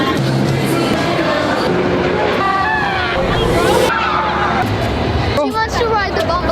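Crowd hubbub and chatter at Six Flags Magic Mountain near the bumper cars, with steady park noise, motor and ride sounds mixing beneath busy overlapping voices.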